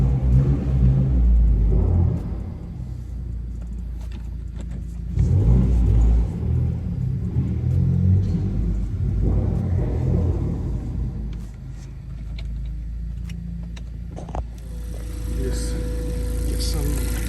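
A 2019 Honda Accord rolls off a workshop lift, its engine rumbling low and swelling in a few surges of throttle, with someone talking over the sound in a garage setting.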